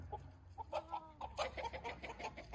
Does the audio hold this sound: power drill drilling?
no